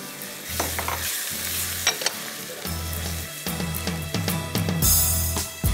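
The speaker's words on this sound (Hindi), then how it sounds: "लाल मिर्च, हल्दी, ज़रा सा नमक और धनिया पाउडर, ये डाल के हम इसको भून रहे हैं।" Red chilli, turmeric, salt and coriander powder frying in oil with marinated mince in a pan. Steady sizzling runs throughout, close and moderately loud, broken by repeated scraping stirs and low thumps of the spoon against the pan.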